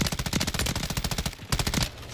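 An M13B assault rifle fires in Call of Duty in a long, rapid automatic burst of close, loud shots with an even rhythm. A short pause comes before a final quick volley.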